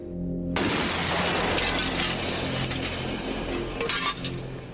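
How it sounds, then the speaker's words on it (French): A glass window pane shatters after a bullet strikes its frame: after a short pause, a sudden loud crash breaks out and glass keeps cascading and tinkling for about four seconds, with a fresh burst of falling shards near the end. "C'est l'endroit précis où la balle a touché le cadre et a fait éclater la vitre."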